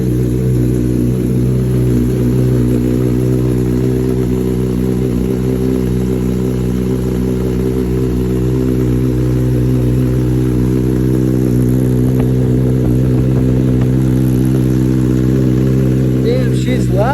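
A 2023 Kawasaki Ninja ZX-10R with a Graves exhaust runs at a steady, loud idle right beside the listener, a dense, even drone that continues unbroken, with a few faint clicks near the end.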